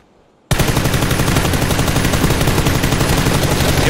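Sustained automatic gunfire in PUBG from a player shooting while moving, a loud, close, rapid unbroken stream of shots that starts abruptly after brief quiet and continues steadily.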